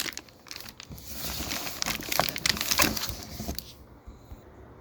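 Plastic wrapping around an APC 1500VA 900-watt battery backup crinkles and crackles in close, continuous bursts as the unit is unpacked from its corrugated crate, fading out near the end.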